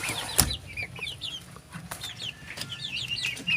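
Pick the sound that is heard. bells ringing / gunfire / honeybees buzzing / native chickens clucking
native chickens clucking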